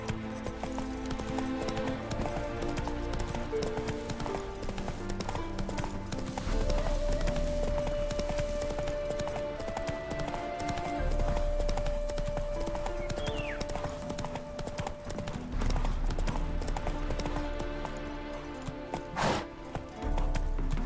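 Roach, a horse in the Witcher 3 video game, gallops with loud, continuous hoofbeats in a fast clip-clop rhythm, layered over steady game music.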